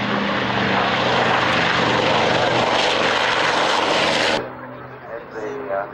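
P-51 Mustang propeller fighters at an airshow, their piston engines producing a loud, steady roar close by that cuts off abruptly near the end, leaving quieter background noise.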